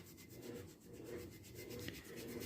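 A small brush scrubs rust from a Peugeot 504 seat part after a rust remover has been applied, giving a steady, close, continuous scratchy rubbing with slight rhythmic swells and no talk.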